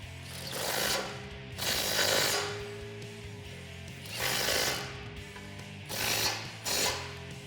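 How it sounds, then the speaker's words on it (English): A ratchet with an 18mm socket tightens bolts on a Barricade HD rear bumper with tire carrier for a Jeep Wrangler JL, several loud, close bursts of rapid clicking separated by short pauses. "Now with an 18mm socket, we can tighten these down."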